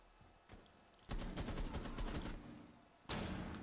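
Automatic gunfire in Rainbow Six Siege: a faint shot, then a loud close rapid burst lasting over a second, a pause, and another sudden burst starting at the end.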